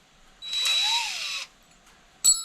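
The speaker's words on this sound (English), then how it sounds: "So I got to drill through some pretty serious steel this time" Power drill with its bit boring into thick steel, a loud whining grind about a second long that rises and falls in pitch, then quiet before a short sharp burst near the end.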